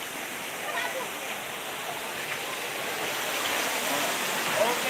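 Spring water pours and rushes steadily at Otak Kokok Joben in Lombok, a dense continuous broadband wash with no pauses, fairly close and even throughout.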